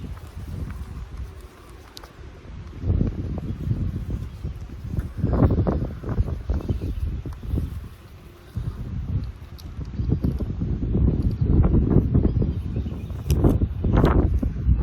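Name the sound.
strong wind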